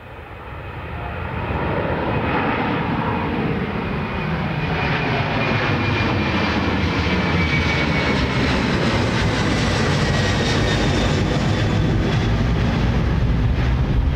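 Steady, loud jet engine roar of an airliner moving on the ground at Dublin Airport, rising in the first two seconds and then holding constant and close, with a faint high whine over it and no voices.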